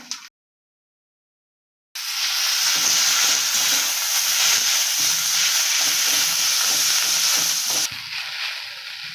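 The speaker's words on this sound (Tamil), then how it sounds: "தேங்காவும் இஞ்சி நல்லா வதங்கிச்சு இந்த டைமில் நம்ம முடக்கத்தானை போட்டுக்கலாம்" Mudakathan greens dropped into grated coconut and ginger frying in a pan for a greens kuzhambu, a sudden loud, steady hissing sizzle that starts after a brief silence and carries on close up, with faint stirring underneath.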